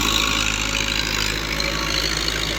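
A Fiat 640 tractor running in second gear while pulling a big cotton planter in Punjab, Pakistan, its engine a steady, close, loud drone that holds an even rhythm throughout without talk.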